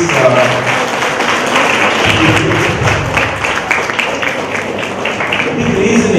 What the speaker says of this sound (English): A big applause for all these